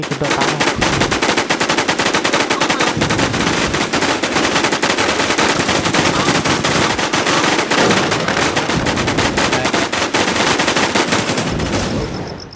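Relentless rapid gunfire in the video game Infestation, loud and continuous bursts of automatic shots over about twelve seconds, with faint voices buried beneath.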